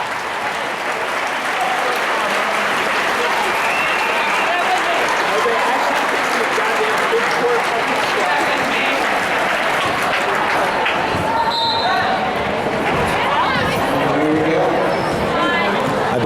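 Crowd applauding steadily at the Ben Friedl Memorial basketball game, a dense, continuous wash of clapping with cheers and chatter mixed in, plus a few whistles and shouts near the end.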